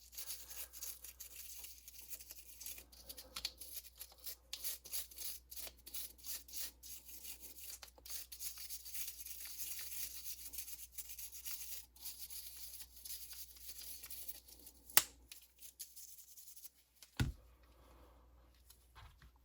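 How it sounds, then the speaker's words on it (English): A small brush scrubs inside an Apple AirPods charging case with isopropyl alcohol, giving quiet, continuous close-up scratchy strokes with a couple of sharper clicks near the end. "I'll just start brushing on the inside of the case"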